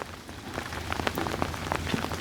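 Steady winter rain patters on potted plants, including a dracaena, in a home garden, a dense close hiss of drops striking leaves with scattered sharper taps and no voices.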